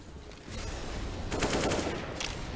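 Gunfire in a Counter-Strike: Global Offensive esports match: a dense run of rapid automatic shots, fairly close and loud, blending with a busy background of game noise.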